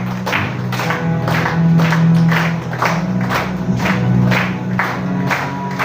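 A church congregation at a deliverance prayer service claps together in rhythmic bursts, loud and continuous over a low hum of voices and music.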